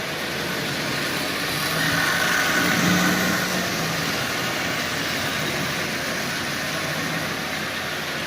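Marx 595 toy train locomotive running at partial power and pulling 13 Lionel cars, a steady close motor whir and rolling rumble that swells slightly midway, with no talking.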